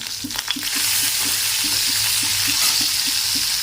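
Chilies and curry leaves fry in hot oil in a pan with a loud, continuous sizzle, while a spoon stirs in a steady, repeated scraping rhythm.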